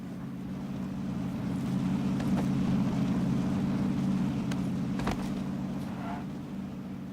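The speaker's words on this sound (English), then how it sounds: "Oh, I hear a car." A car engine in the PUBG battle royale game drones steadily nearby, a low, even rumble that holds for several seconds and swells slightly in the middle, with no talking over it.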